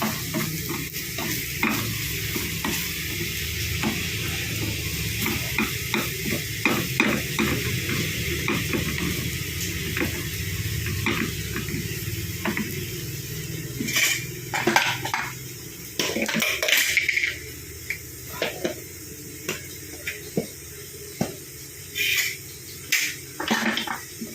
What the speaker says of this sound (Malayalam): നമുക്കതെല്ലാം കൂടെ ഒന്ന് യോജിപ്പിക്കാം